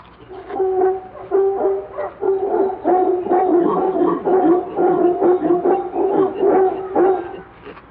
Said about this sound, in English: They howl to defend the troops' right to particular food trees.